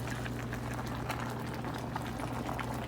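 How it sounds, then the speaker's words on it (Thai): Hot pot broth with vegetables boils vigorously in a Tiger electric pot, a dense, steady bubbling and gurgling that holds at an even level throughout with no talk. "เดือดปุดปุดปุดปุดปุดเลย"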